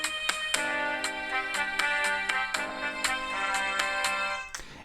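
Music plays through the tiny built-in speaker of a Sony Mylo handheld held up to a microphone, thin and bright with a steady beat and sustained tones, no bass, playing alone for about five seconds.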